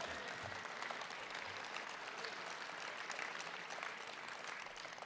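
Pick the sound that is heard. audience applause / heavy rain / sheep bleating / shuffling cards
audience applause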